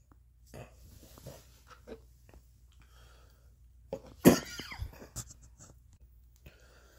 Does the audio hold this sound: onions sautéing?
no